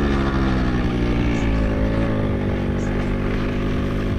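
A scooter engine drones steadily and loudly throughout a ride by a river, its pitch shifting slightly as the throttle changes.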